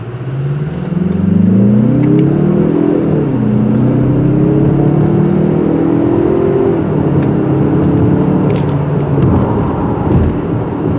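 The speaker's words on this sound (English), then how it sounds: "This turbo engine's got a lot of power, especially if you put it in the sport mode." A 2022 Mazda CX-30 turbo, running on regular fuel in sport mode, accelerates hard. The engine note rises and drops back through several gear changes in a loud, continuous pull, with no talking.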